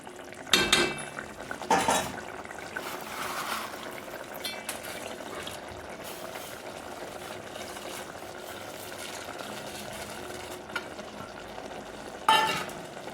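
Sev being stirred into a soft, well-cooked tomato curry in a pan, a soft steady sizzle with a few sharp scrapes and clinks of a spoon against the pan, loudest near the start and end.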